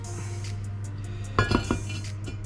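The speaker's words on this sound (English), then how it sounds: "Pop the lid on." Metal lid set onto a cooking pan of butternut squash for a halloumi bean bake, a quick cluster of two or three clinks and rattles over a steady low kitchen hum.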